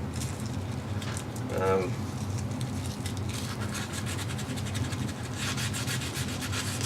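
Wooden piece having its rounded edges sanded, a steady gritty rubbing close by that continues throughout, with a brief hum partway through.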